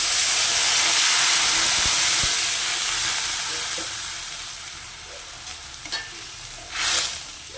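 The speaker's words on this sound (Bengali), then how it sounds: "এবার আমি জল দেবো" Water poured onto fried potatoes in a hot pan bursts into a loud hissing sizzle that slowly fades to a gentler bubbling, with a few utensil clinks near the end.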